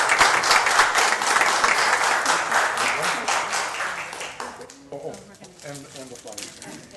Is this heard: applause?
yes